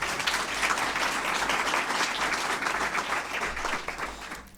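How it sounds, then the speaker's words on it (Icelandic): An audience at a presentation meeting claps warmly, a dense, even wash of applause that holds steady and then tapers slightly near the end. "Gerðu svo vel Unnur, gefið þér gott klapp."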